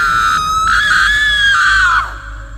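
A woman's frightened scream in a Bengali horror cartoon, one sustained high shriek lasting about two seconds that rises, holds and then drops off sharply, loud and close with no talk over it.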